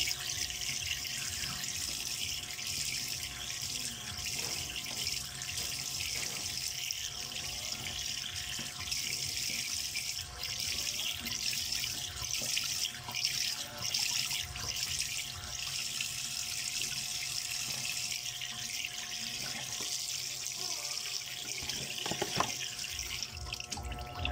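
Tilapia gets rinsed under a running kitchen tap: a steady, close rush of water with small splashes and dribbles throughout, and no voices.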